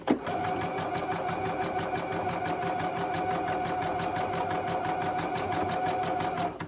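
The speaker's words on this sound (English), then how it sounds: "Pull the sewing machine off" A sewing machine stitches steadily at close range, its rapid needle rhythm running evenly from start to finish with no talking.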